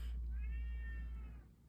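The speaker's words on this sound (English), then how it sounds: "my cat's being really annoying." A house cat meows once, close by, in a drawn-out, wavering call that fades at the end over a low steady background hum.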